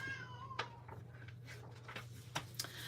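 A cat gives a faint short meow near the start in a quiet room, followed by soft scattered clicks and rustles over a low steady hum, with no talking.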